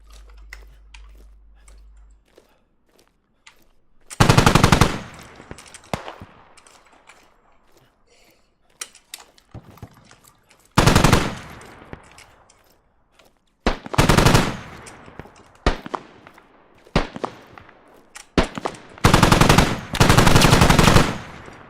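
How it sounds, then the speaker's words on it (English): Weapon fire in the video game Squad, several loud bursts of rapid automatic shots, some long and some short, broken by quieter stretches with scattered clicks and distant single shots. "The gun sounds in this game are absolutely amazing"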